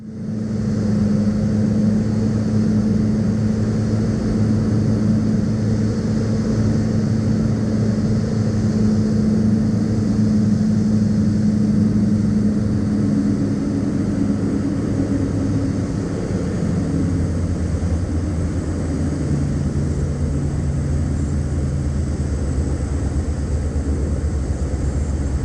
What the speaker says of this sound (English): So I'm going to let the airplane engines come on because I want you guys to listen to how smooth this landing was.